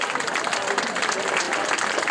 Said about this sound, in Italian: Un bel applauso per Mariluna.